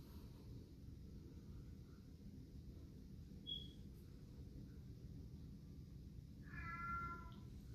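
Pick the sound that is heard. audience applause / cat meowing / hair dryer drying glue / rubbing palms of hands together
cat meowing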